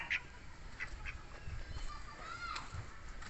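A domestic duck on a Filipino gamefowl farm quacks a few times at close range, short nasal calls scattered over rustling background noise, with faint murmuring nearby.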